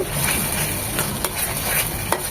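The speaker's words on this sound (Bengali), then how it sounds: "মশলাগুলো এখন খুব ভালোভাবে কষিয়ে নেবো" A spice paste with chili powder fries in a pan for a katla fish and ripe pumpkin curry, hissing steadily while a spatula taps and scrapes at intervals, close up with no voices.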